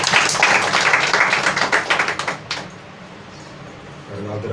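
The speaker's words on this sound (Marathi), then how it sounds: "पिता पुत्र पवित्र आत्म्याला टाळ्या वाजवू" A congregation at a church worship service claps in praise, a run of rhythmic hand claps building then fading out midway, followed by quieter room sound and faint talk.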